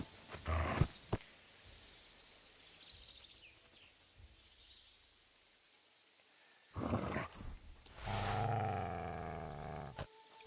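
A dog growls in Kingdom Come Deliverance 2: a short rough burst near the start, then a louder, longer growl toward the end after a quiet stretch.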